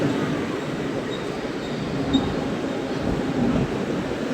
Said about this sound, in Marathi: बाजूला बघू शकता तुम्ही एसी लोकल ट्रेन चाललेले.